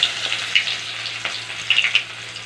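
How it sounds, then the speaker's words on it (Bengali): Onion sizzles in hot oil in a wok with five-spice tempering, a close, steady crackle with sharper pops bursting through and no talking. "পেঁয়াজটাকে হালকা লাল লাল করে ভেজে নেব"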